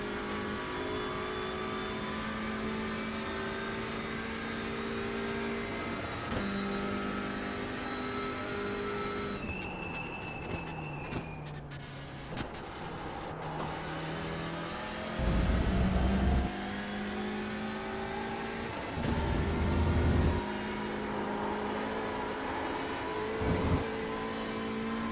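A race car's engine in a sim racing game drones steadily and climbs through the gears, with repeated drops in pitch as it downshifts and brief heavy thumps. It plays mostly alone, with almost no talk.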